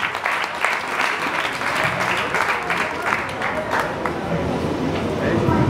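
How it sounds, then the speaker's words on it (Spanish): A live crowd at a concert hall applauds in a strong, continuous wave of clapping, with voices mixed under it and a slight rise toward the end. "Aprovechamos para dar un fuerte aplauso"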